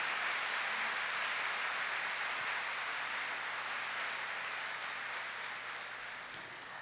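A church congregation applauds during a service, making a steady, diffuse wash of many hands clapping. The sound is faint and roomy and tapers off slightly toward the end.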